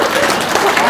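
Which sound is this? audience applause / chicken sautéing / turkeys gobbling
audience applause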